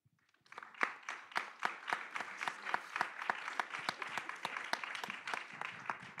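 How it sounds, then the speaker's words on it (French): Audience applause after a round-table talk, crisp individual claps from a modest crowd that start suddenly and continue at a steady, even density, with no talk over them. "vous pouvez l'applaudir, il a fait 19 minutes et le timing c'était 20 minutes"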